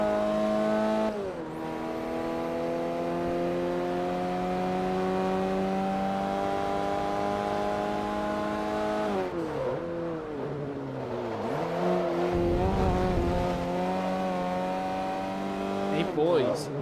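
A racing car engine in Forza Motorsport 3 at Road Atlanta drones at high revs, its pitch climbing through gears and dipping on downshifts, with brief tyre noise, loud and continuous behind occasional talk.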